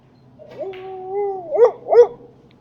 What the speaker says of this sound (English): My dog's not happy with me this morning for some reason.